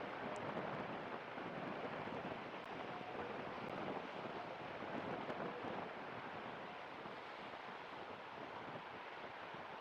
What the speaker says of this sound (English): the nice soothing waves and beach sounds coming out of Taitung, Taiwan